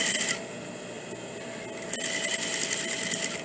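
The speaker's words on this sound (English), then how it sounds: "I'm just going to edge stitch that all the way across." A sewing machine edge stitches a collar into a bodice, running as a steady, fairly quiet mechanical whir for a few seconds with no talking.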